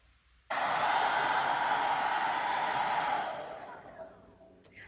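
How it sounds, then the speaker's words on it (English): A hair dryer switches on abruptly and blows with a loud, steady roar, easing slightly near the end before fading down. "you can also take your hair dryer or whatever you have"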